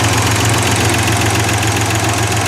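An engine idles steadily up close, its rapid, even ticking of noisy valve lifters riding over a low, constant hum.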